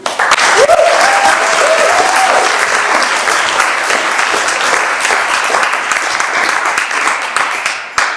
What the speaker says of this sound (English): I'd like to start this speech with a huge round of applause for Ian, Joanne, Martin and Stella